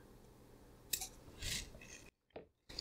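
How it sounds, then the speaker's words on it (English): Small scissors snip off excess fly tying material in a quiet room, giving a few close, crisp cuts and light clicks separated by brief silences. "Now I'm going to go ahead and snip this excess off right here."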